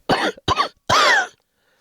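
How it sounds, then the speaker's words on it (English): A person coughs three times in quick succession, close to the microphone; two short hacks are followed by a longer, harsher cough, then silence. "Did you just mute because you were coughing?"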